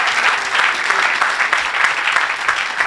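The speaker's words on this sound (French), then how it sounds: "Acclamez encore une fois pour sa guérison." Loud, sustained clapping from a crowd at a Christian healing service fills the whole stretch, dense and steady with no voices standing out.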